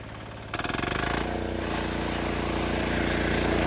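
A 13 HP Kisan Kraft power weeder engine in a wheat field starts after a brief pause, then runs loud and steady with an even, throbbing mechanical drone nearby.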